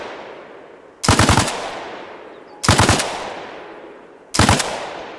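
Three short automatic bursts of rifle fire in the video game ARMA Reforger, each a rapid cluster of sharp loud shots followed by a fading echo, evenly spaced about a second and a half apart.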